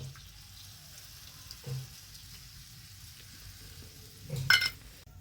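Carrots with a ground paste of cashew and melon seeds sauté in a pan for a vegetarian dish, giving a low, steady sizzle that swells briefly near the end as the mixture is stirred.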